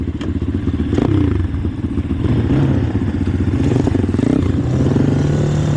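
A Yamaha Raptor 250 quad engine runs loud and close, its motor droning and surging with revs amid some clatter, and no talking.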